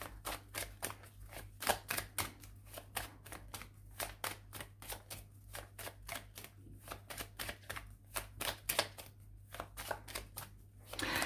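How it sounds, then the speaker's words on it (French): Tarot cards are shuffled and drawn from a deck, making a rapid, steady run of crisp card flicks and snaps, close up and faint, with no talking over them. "Je vais retirer 2 cartes quand même, pour vous, les Verseaux."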